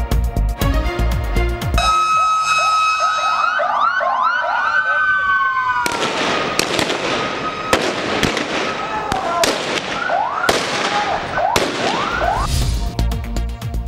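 Heavy aerial firing by police and FC to disperse protesters in Chakiwara, Karachi: loud, repeated sharp bangs scattered throughout, mixed with wailing, rising and falling sirens.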